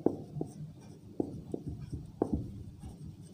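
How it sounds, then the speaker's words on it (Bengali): A pen writes a word by hand on paper, heard close and quiet as a series of light taps and short scratching strokes in an irregular rhythm. "আমরা সঠিক শব্দটি লিখব"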